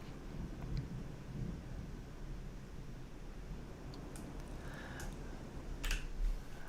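Low, continuous thunder rumbles through a severe storm, broad and fairly faint, with a few sharp crackles and clicks over it.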